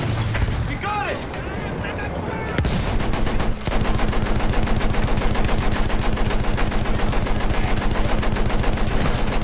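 Battlefield 1 video game gunfire: rapid, loud machine-gun bursts hammer in a relentless rhythm, with a voice heard briefly at the start before the shooting takes over.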